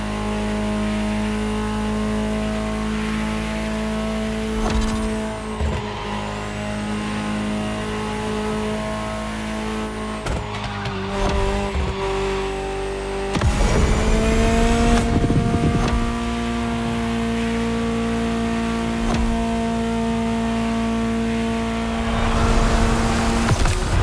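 Ferrari engine from The Crew Motorfest driving game, revving and holding steady tones with several gear changes and sharp surges in pitch, loud and close with no talk.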